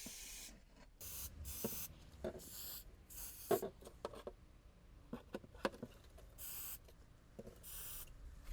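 Biltema linseed-based transparent yellow rust protection is sprayed onto a rusty Saab 93 in short, repeated aerosol bursts, close and loud, with brief mechanical clicks between the sprays.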